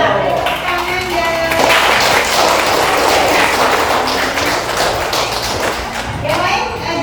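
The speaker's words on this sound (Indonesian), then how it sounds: "Ya, tepuk tangan ya." Classroom applause after a student's presentation, a dense wash of clapping hands that swells and holds for several seconds, with children's voices mixed in beneath.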